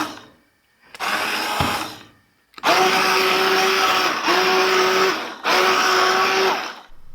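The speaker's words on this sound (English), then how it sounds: "Blending it in the Vitamix in small batches" A Vitamix blender pulverizing tomatoes in small batches, running in loud, steady whirring bursts: a short run, a pause, then three longer runs separated by brief dips.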